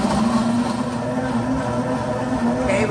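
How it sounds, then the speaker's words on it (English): A blender mixes a protein shake containing grapes, giving a continuous, loud motor whir with a steady low hum that runs through the whole stretch without talking. "Put it in the old blender."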